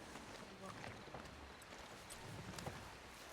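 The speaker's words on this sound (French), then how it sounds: "C'est un nouveau cheval, Dame Rosa." A young horse with blue eyes and a black-and-white mane moves about, its hooves giving soft, irregular clip-clops against a faint, noisy background.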